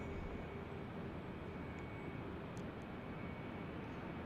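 A Cessna 750X jet landing on runway 35 at Salt Lake City airport gives a steady, broad roar of engine noise, continuous and fairly distant throughout, with no voices.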